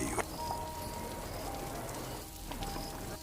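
Stormy rain falling, a steady broadband hiss of drops on surfaces with faint scattered chirps, continuous and moderately quiet with no talking.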